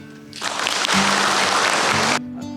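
Wedding guests break into a loud, dense burst of applause for the newlyweds that lasts nearly two seconds, then stops abruptly, leaving the quiet room hum.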